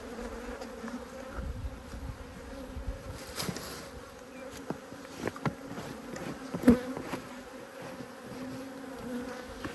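Honeybees droning around an opened hive during an apiary inspection, a continuous close buzzing swarm with occasional louder passes and faint handling knocks of frames, no talk.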